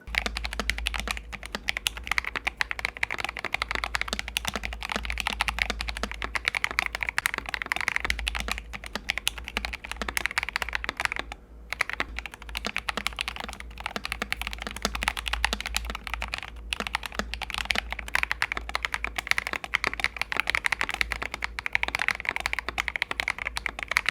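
Steady, fast typing on Epomaker TH66 and TH80 mechanical keyboards with tuned, lubed stabilizers, a dense patter of close keystrokes with a short pause midway, no voices.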